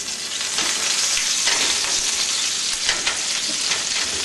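Beef tenderloin searing in a hot pan just after being flipped gives a continuous, close, crackling sizzle with small pops and no talking.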